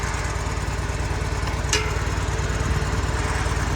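A Kohler CH-745 engine on an Exmark Lazer Z zero-turn mower runs at a steady idle, a close, loud, even throbbing with a brief rattle partway through.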